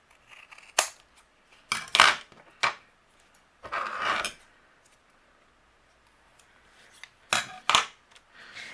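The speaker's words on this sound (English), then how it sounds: "to make it fit, I need to trim a little bit away." Scissors snip paper trimmed for a handmade card, about seven sharp, close cuts arriving in small clusters with quiet pauses between them.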